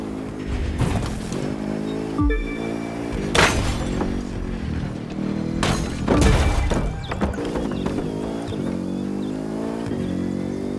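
Racing engines in The Crew 2 roar and rev through a Lake Tahoe resort area, with loud engine sweeps, sharp whooshes, impacts and crunching hits mixed in, continuous with no talk.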